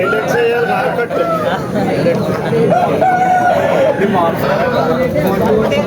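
A rooster crows at a busy Saturday country-chicken market, its calls cutting through steady crowd babble and nearby talk.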